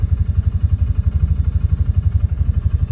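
A Polaris Ranger 570 utility vehicle engine idles with a steady, low, even throb that pulses rapidly and evenly, close and fairly loud, with no talk.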